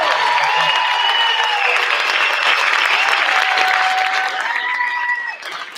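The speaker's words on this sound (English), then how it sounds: "Let's give a round of applause first" A crowd at a school board business meeting applauds the varsity cheer team, dense steady clapping mixed with a few whoops and cheers that fades out at the very end.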